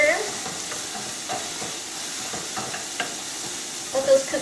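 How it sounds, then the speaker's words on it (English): Cauliflower and walnut taco meat sizzles steadily in a pan while being stirred, a close, continuous frying hiss with soft scraping and stirring knocks. "So I'm going to give those a quick stir."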